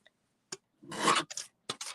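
Scissors snip paper for a small handmade pocket tag craft: one brief click, then a longer rasping cut and a few quick snips, close and dry in a quiet room.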